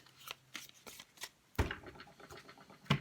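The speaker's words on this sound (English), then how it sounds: "after I've made a mess of that shuffle" Tarot cards being shuffled by hand, a run of soft riffling bursts and papery flutters, followed by a sharper cut of the deck and a final snap, close and fairly quiet with no talking.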